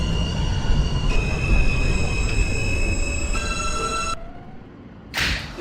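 An R160A subway train runs in the openbve simulator, a loud, close rumble with sustained high-pitched wheel squeal and whining tones. These shift in steps and then drop away, and a short burst of hiss follows near the end.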